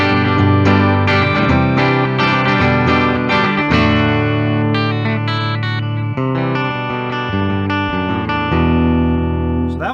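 A Gibson Reve electric guitar on the bridge pickup in standard tuning plays a traditional-style lead and chord passage, loud and continuous with a lightly overdriven, bright tone and faint reverb, no voices.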